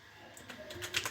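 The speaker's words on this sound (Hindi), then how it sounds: "उसके लिए हमें सबसे पहले लिखना है उस मैप का नाम विराट कोहली" Brief, quiet typing on a computer keyboard, a quick run of soft key clicks that grows slightly denser and louder toward the end, with no voices heard.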